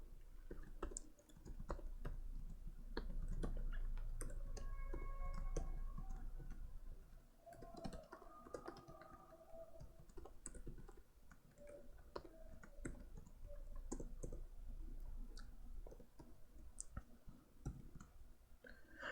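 Rapid clicking of a computer keyboard as PHP code is typed, keystrokes coming in irregular bursts and runs with short pauses, close and steady with no talking.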